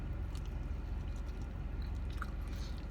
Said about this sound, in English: We're going to put a little pickle on this bite.